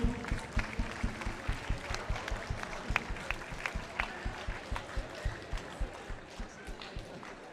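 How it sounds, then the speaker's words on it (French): At a 24-hour race event in Saint-Jo, an audience claps in a steady, rhythmic beat, evenly spaced claps repeating throughout over a light crowd murmur. "vous pouvez l'applaudir"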